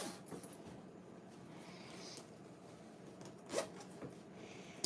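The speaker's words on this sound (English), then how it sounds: "They have a zipper on the side." A zipper on the side of a pair of Blowfish shoes being worked, a close, quiet rasping run with a few small clicks and handling noises, no talking.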